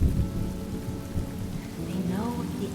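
Rain pours in a Honkai: Star Rail scene while low thunder rumbles beneath it, a continuous wash of downpour with rolling booms near and heavy.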